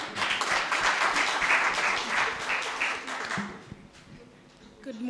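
A seated audience at a celebration summit applauds with a dense burst of clapping that fades after a few seconds.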